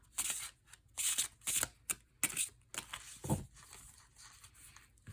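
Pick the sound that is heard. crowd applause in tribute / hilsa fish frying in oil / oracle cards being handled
oracle cards being handled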